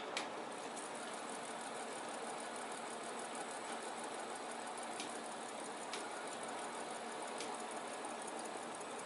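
An Evergo/Canarm industrial ceiling fan with rehabbed bearings runs with a faint, even whirring hum and a few light ticks, quiet and steady throughout with no voices.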